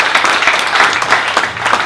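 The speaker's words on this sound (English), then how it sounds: "If you could give him a round of applause" Audience applause for a new volunteer at a 1 Million Cups Dallas startup community meeting, a dense, steady wash of many hands clapping, fairly loud and close, with no break across the short stretch.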